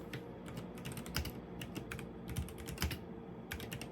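Rapid typing on a computer keyboard, with steady, close key clicks over a low background hum and a few louder keystrokes, while someone notes down the book title Atomic Habits; no talk.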